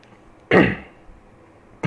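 One sharp cough, then a short throat clearing, close and alone in a quiet room. A faint second burst follows at the very end.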